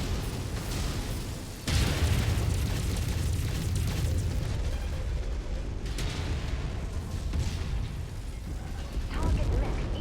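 Enemy mech exploding in the Mechwarrior 5: Mercenaries video game, heavy booming blasts and mechanical rumble that stay loud throughout, with a sharp burst near the start.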